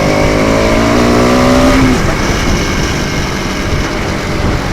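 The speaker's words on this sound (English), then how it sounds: "it's just such a good exhaust note to have when you're riding every day." Exhaust note of a Pulsar RS200 motorcycle while riding on an everyday commute, a loud steady engine drone with a rising pitch in the first couple of seconds, then a sustained rumble.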